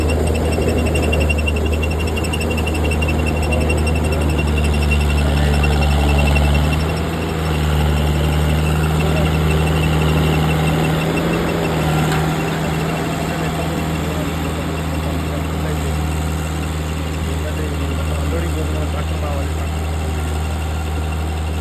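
A tracked chain machine works in deep mud on a farm, its engine giving a loud, steady low rumble and hum close by with a brief rise in pitch partway through.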